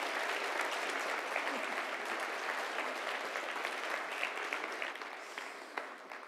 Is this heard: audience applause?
yes